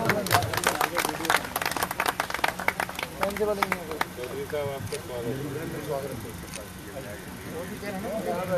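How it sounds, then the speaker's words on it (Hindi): An audience at a BJP party gathering in South Delhi claps as someone is welcomed; the clapping is dense and lively early on, then thins out beneath a speaker's amplified voice in a hall. "तालियां बजाइए तो जोरदार"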